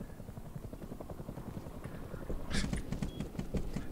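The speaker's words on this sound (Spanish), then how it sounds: "Hay un helicóptero en mi casa." A steady video-game helicopter rotor thump drones throughout, from the game Egoland, with faint clattering and brief sharp sounds rising over it near the end.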